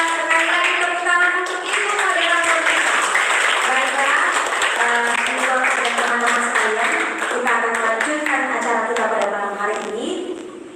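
Applause fills a seminar hall in Indonesia, steady clapping throughout while tonal voices or music sound prominently over it, fading slightly toward the end.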